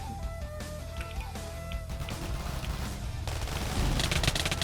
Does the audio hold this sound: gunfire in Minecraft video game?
yes